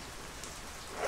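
Steady rain patters at a campsite while a two-person backpacking tent is set up, a dense even hiss of drops on fabric and ground, close and constant, with no talk.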